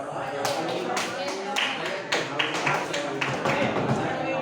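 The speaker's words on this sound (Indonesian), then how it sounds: "Beri tepuk tangan untuk kelompok 3" Classroom group claps for group 3 after a presentation in a school guidance lesson, a fairly close, uneven patter of separate hand claps lasting the whole stretch, with some voices mixed in.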